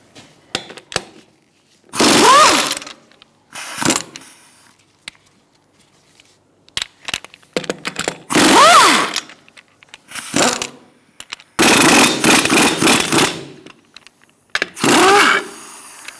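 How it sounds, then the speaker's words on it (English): A power tool whirs in several short, loud bursts with quiet gaps between them as a 21mm socket removes a wheel from a 2002-2006 Toyota Camry. "Using a 21mm socket, we're going to remove our wheel."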